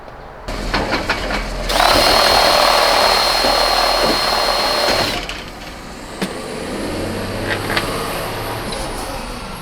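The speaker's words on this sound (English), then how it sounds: "let me go ahead and do the step drill on these" A power drill with a step bit whines steadily through a Toyota pickup tail light for several seconds, loud and close, then spins down with a lighter hum.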